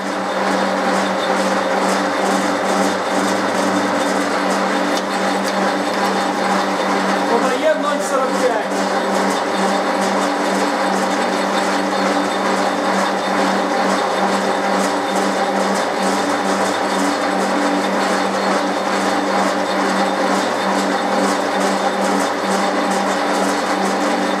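A gear-cutting machine tool hums steadily while its carriage is raised, a constant, loud mechanical drone with a brief disturbance midway and a person talking over it.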